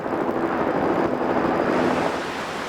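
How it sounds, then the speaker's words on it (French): A whitewater torrent rushes through a fierce rapid during a staged rafting rescue, a dense, roaring wash of water that fills the sound without a break. "Le torrent est bien réel"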